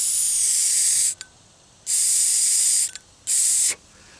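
Air blown through a small engine carburetor via a fuel line makes three loud, close hissing bursts of rushing airflow, separated by brief pauses.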